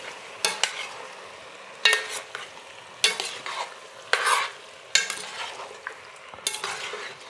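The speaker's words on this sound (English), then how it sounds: "I'm gonna stir it all up." A utensil stirring bolognese sauce with crushed tomatoes in a hot pan, about six scraping strokes spaced about a second apart over a soft, steady sizzle, close and clear.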